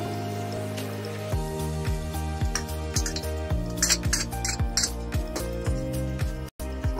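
Metal spoon scraping and clinking against a pot as rice is stirred in boiling milk on a gas stove, a steady run of repeated knocks and scrapes, close and fairly loud, with a brief drop near the end.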